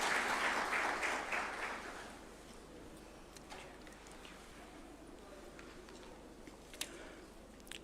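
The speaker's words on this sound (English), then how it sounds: "A round of applause," Audience applause greets a judge approaching the swearing-in arena at a ceremony at State House, Nairobi: dense clapping, fairly loud at first, thins out after about two seconds into a quiet room with a few faint scattered claps.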